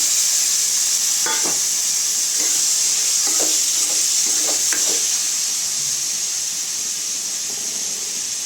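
Mutton pieces being stirred in a hot pan for Chettinad mutton chukka, giving a steady bright sizzle with a few scraping stir knocks scattered throughout, close and alone without talk.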